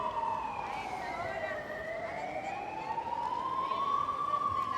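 A wailing police or ambulance siren at a road accident scene, sweeping slowly up and down in pitch, loud and steady throughout with faint background bustle and a voice underneath.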